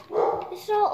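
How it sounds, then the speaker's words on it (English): A household dog barks twice in the background, two short close yaps under a person speaking. "that's our dog in the background."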